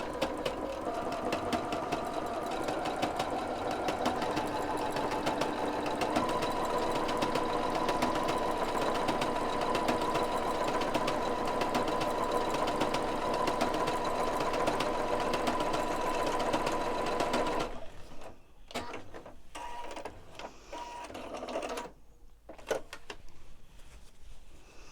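A sewing machine stitches with twin needles in one steady, loud mechanical run for most of the stretch, then stops and leaves a few quieter handling clicks and knocks.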